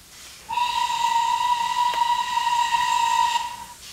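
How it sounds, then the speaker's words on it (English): A guard's whistle on a railway platform in Train Simulator, with LBSCR Stroudley A1/A1X Terrier 0-6-0T tank engines, sounds as one long, shrill, steady blast lasting about three seconds, loud and close. "when the doors close, the guard's whistle will sound out"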